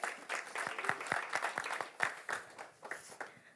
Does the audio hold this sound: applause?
yes